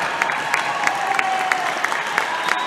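A crowd at a high school volleyball sub-state championship cheers and applauds steadily as fans rise at match point, a dense continuous roar with scattered sharper claps and shouts.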